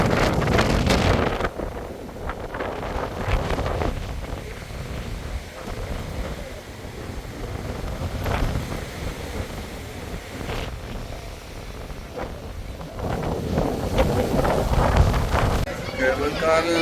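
Strong wind gusts buffet the microphone on the Langkawi sky bridge, a loud, rough roar that swells and eases in waves while a person talks through it.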